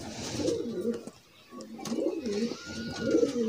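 A Sialkoti pearl pigeon coos in repeated low, throaty rolling phrases close by, with a brief pause between calls and faint background chirps.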